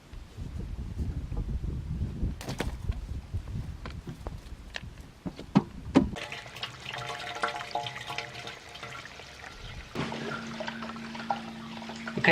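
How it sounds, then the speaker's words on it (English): Water from a garden hose runs into a toilet cistern: splashing and gurgling early, then a steadier filling rush with a rising tone near the end, with no voices. "now you can hear water running into the cistern that I got the water turned on"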